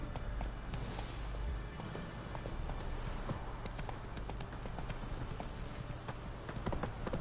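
A horse galloping in the video game Witcher 3, with steady, rhythmic hoof clip-clops close by and continuing throughout over a low background rumble.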